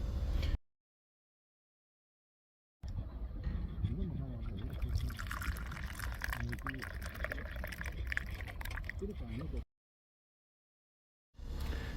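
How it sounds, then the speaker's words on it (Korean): Fishing groundbait is stirred by hand on a breakwater, giving wet sloshing and squelching in a steady run of strokes, with silent gaps before and after. "밑밥을 또 듬뿍 저어 봅니다"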